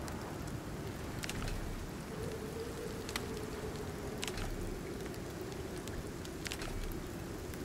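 Rain pours in the survival video game Icarus, a steady wash of drops with scattered crisp pattering hits and a faint low hum beneath, continuous and moderately quiet with no voices.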